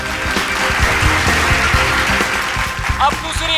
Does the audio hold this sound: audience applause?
yes